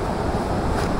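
A swollen river after a night of very heavy rain rushes steadily, a dense, continuous roar of fast water with wind noise on the microphone, loud and close with no speech.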